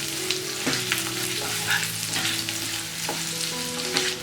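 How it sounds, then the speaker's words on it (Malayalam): Shallots and curry leaves sizzle steadily in hot ghee for a Kerala beef mappas, with scraping stirs and faint clinks of a spoon against the pan; there is no talking. "ബാക്കി നെയ്യിലേക്ക് 2 തണ്ട് കറിവേപ്പിലയും 3 ടേബിൾ സ്പൂൺ ചെറിയ ഉള്ളി ചെറുതായിട്ട് കട്ട് ചെയ്തതും കൂടെ ചേർത്ത് കൊടുക്കണം"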